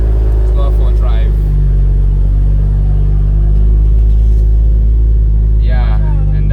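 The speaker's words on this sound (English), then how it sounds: "as you can hear, the exhaust is still very loud" Deep, loud exhaust drone from a BMW M240i with the B58 six-cylinder while driving, a steady heavy rumble filling the cabin throughout, with brief bits of a voice talking over it.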